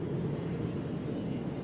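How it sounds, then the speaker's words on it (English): Steady low engine roar of a cargo jet airplane in flight, a continuous even drone with no breaks and no voices over it. "Cargo jets like this one circle the globe 24 hours a day, day and night, delivering packages in good weather or in bad"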